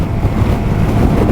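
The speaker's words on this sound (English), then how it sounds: "Very windy here." Steady low rumbling wind buffets the microphone during a test ride on a 2023 Zontes 350D motorcycle, a dense continuous roar with no speech.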